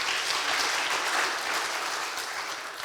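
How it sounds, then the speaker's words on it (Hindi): A church congregation bursts into loud, dense, sustained applause in thanks to God, a steady wash of many hands clapping with no voice standing out. "क्यों ना उसको जोरदार तालियों के द्वारा हम धन्यवाद दें।"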